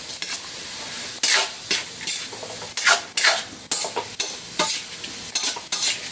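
Bean sprout lumpia filling with oyster sauce is tossed in a hot pan in repeated bursts of hissing sizzle, each stroke swelling and fading in a regular rhythm, close and loud with no speech.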